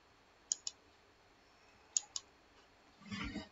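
Mouse clicks at a computer while working in Power BI: two quick double clicks about a second and a half apart, crisp and close, followed by a soft rustle.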